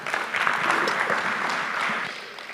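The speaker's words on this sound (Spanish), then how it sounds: "Con fuertes aplausos." Steady, moderately loud applause from a church conference audience, an even patter of many hands clapping throughout.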